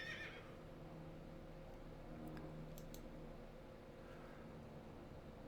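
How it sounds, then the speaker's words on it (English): A horse mount in World of Warcraft gives a short whinny, followed by faint hoof clops and light clicks over a low, steady in-game ambient hum. "Okay, I'm going to get on my horse."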